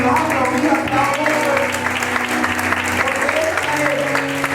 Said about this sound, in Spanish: Y si le vamos a aplaudir hasta hoy